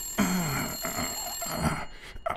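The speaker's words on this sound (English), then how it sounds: "Of course the phone starts ringing now." In the detective video game Blacksad: Under The Skin, a telephone rings with a bright, trilling bell tone that repeats in short bursts over quieter in-game sounds.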